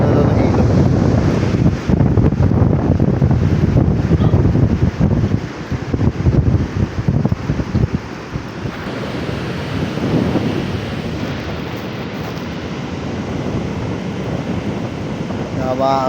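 Strong wind buffets the microphone on a beach at General Nakar, Quezon, with sea surf rolling and washing beneath it in a loud, continuous roar that eases a little partway through.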